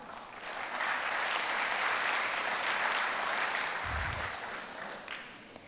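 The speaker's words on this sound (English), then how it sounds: "Please give them a round of applause." A large audience at a university admissions talk applauds panelists walking on stage, a sustained even wash of clapping that swells and fades over several seconds, with a low thump near the end.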